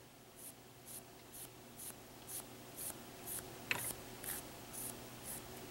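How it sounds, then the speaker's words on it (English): A dry paint brush drags lightly and repeatedly across a model building's tar paper roof, making soft, faint, evenly spaced scratchy strokes close up. "You just want to drag it across these seam lines on the tar paper roof."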